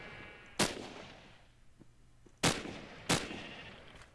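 Three sharp assault rifle shots from Minecraft's Flans Mod crack out separately, each a loud, close synthetic report with a short decaying tail, spaced over a few quiet seconds.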